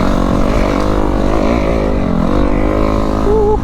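A Kawasaki KX250F dirt bike engine revs hard through a small wheelie, its loud, steady drone rising and wavering in pitch close by, with no talk.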